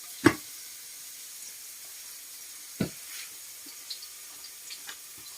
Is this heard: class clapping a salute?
no